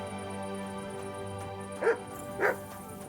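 A dog in Kingdom Come: Deliverance II gives two short barks over steady background game music, the first near the middle and the second a moment later.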